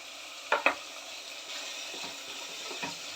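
Onions sizzle in a wide pan with a soft, continuous frying hiss, opened by two quick metallic clinks of a utensil and followed by light stirring.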